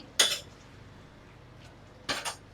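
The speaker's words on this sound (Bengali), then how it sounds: "এবার আমি ঢাকনাটা খুলছি" A metal lid lifted off a pot of cooking chicken, two short clinks spaced about two seconds apart, close and fairly loud against a quiet background.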